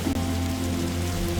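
Steady rain falling on a leaky car in the video game The Darkside Detective, a constant dense patter with low rumble and no talk.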